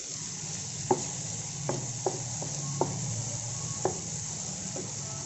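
Onions and green chillies frying in oil with curry leaves make a soft, steady sizzle, with several faint clicks of a utensil stirring in the pan, heard alone and not loud.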